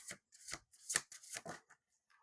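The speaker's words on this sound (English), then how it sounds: "Spirit says shuffle the deck." A deck of cards is shuffled in several quick riffling bursts, close and fairly soft, separated by short pauses, with no voices.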